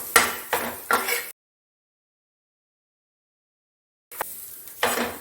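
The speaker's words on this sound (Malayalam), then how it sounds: "ആ പച്ചമണം മാറുന്ന വരെ നമുക്കൊന്ന് ഇളക്കി കൊടുക്കാം കേട്ടോ." Masala for egg bhurji is stirred in a pan. A few rhythmic spatula scrapes and knocks sound close at the start, then a stretch of dead silence, then more scraping strokes and a sharp tap at the end.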